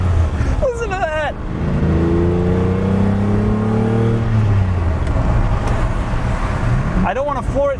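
Close, loud revving from a Lamborghini Countach, the engine note swelling and climbing through rising harmonics before settling into a steady rumble, with short bursts of a person talking at the start and end.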